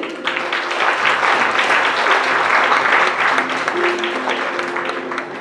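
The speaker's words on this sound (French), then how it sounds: "On les applaudit." Parents applaud young pre-primary pupils after a Snow White performance at a school graduation ceremony, a full, even round of clapping that swells and holds for several seconds with faint voices underneath.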